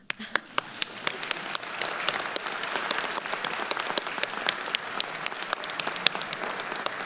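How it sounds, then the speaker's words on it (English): Audience applause fills a room at a college presidential inauguration, a steady wash of many hands with sharper individual claps standing out, sustained and fairly close throughout. "Okay, that deserves applause."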